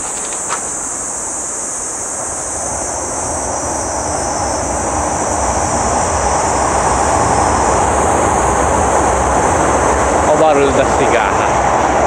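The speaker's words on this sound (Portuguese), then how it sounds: "Da cigarra." Cicadas near a river give off a loud, continuous high-pitched buzz that holds steady the whole time, with rushing ambient noise and faint background sounds beneath.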